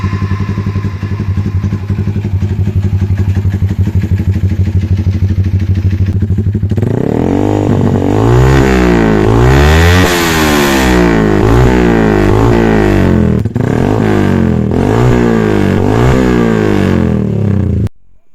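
A worn Yamaha MX King 150cc motorcycle engine, oil-leaking and tired, idles roughly up close before being revved repeatedly in loud, rising and falling bursts that then settle back.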